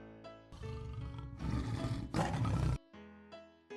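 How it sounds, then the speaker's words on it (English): A tiger gives a loud, rough, sustained roar that builds over a couple of seconds and stops abruptly, set against a background music track. "T for tiger."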